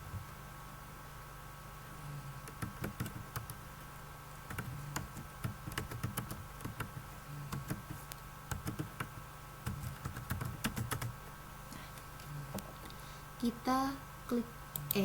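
Keys tapped on a computer keyboard while names are entered into an Excel custom list, a steady run of close, light clicks with short pauses, alongside quiet low background sounds.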